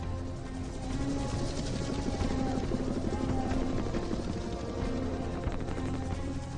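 Military helicopters flying over the jungle during a British offensive, heard as a steady, dense rotor and engine roar that fills the whole stretch at a constant loud level, with crashing noise mixed in.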